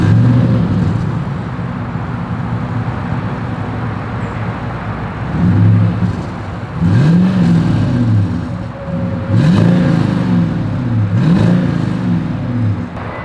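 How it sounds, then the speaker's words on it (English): Exhaust of a 2022 Toyota Sequoia with a single outlet, a steady idle rumble broken by several short revving swells that rise and fall, recorded close with no talking. "As always, here is that exhaust clip."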